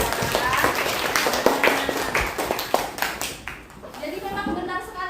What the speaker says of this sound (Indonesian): tepuk tangan untuk Neti